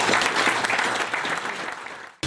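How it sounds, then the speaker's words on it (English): Guests at an agricultural college alumni luncheon applaud themselves in a loud, dense wash of clapping that fills the room and then cuts off abruptly near the end. "So please give yourselves a round of applause."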